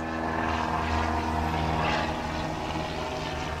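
An airplane flies low right overhead, a loud, steady engine and propeller drone with a slowly shifting tone that fills the whole clip, heard alone with no talk.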